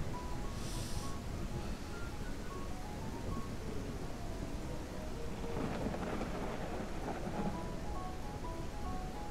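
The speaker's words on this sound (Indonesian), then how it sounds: "Woi, hujan badai." Thunderstorm with heavy rain in the farming video game Ranch Simulator: a loud, constant downpour with a rumble of thunder swelling in the middle, and no speech.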